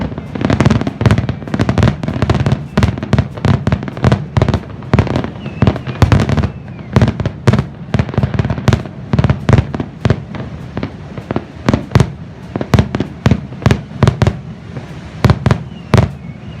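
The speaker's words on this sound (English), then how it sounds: "What did you think of the fireworks?" Fireworks at an outdoor show explode in a rapid, loud, continuous barrage of sharp bangs and crackles, dozens of bursts following one another with little pause throughout.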